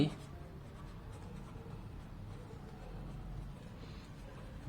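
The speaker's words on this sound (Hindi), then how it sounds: "तो जब हमें सेम स्टेप फॉलो करने होते तो हम सीधे लिख देते हैं" Handwriting scratches quietly on paper while working a class 9 maths problem on quadrilaterals, a faint, steady pen stroke texture held throughout.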